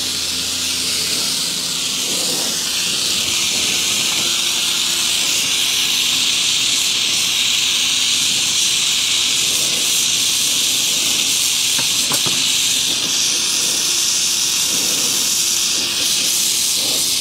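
Welding a bracket onto a Yamaha 250MX motorcycle frame in a shop; a loud, close, continuous crackling hiss holds steady for the whole stretch with no pauses or voices.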